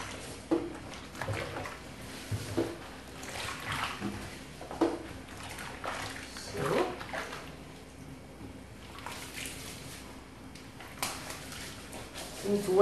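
Banana leaves being washed with water and dish soap, with irregular splashing and rubbing swells of water close by, while a person talks over it.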